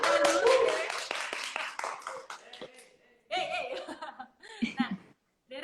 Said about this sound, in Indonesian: Tepuk tangan dulu ini buat teman-teman yang ada di studio, bisa tepuk tangan dulu